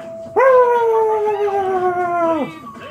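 A human voice imitates dogs howling at thunder with one sustained howl of about two seconds, close and loud, rising sharply at the start and dropping off at the end.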